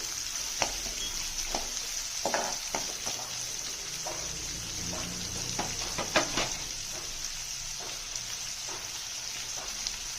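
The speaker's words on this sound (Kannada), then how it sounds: "ಮೀಡಿಯಂ ಉರಿ ಇಟ್ಕೊಂಡು ಈರುಳ್ಳಿ ಮೆತ್ತಗಾಗೋವರೆಗೂ ಕೂಡ ಫ್ರೈ ಮಾಡಿರಿ" Steady sizzling of onions frying in hot oil over medium heat, with occasional scraping and stirring clicks; no voices, close and fairly quiet.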